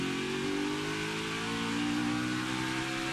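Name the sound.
race car engine on throttle at Watkins Glen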